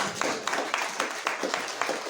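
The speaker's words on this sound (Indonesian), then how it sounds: "Tepuk tangan begitu." A congregation applauding at a Saturday church service, with a light, steady patter of clapping sitting under a faint background and no voices.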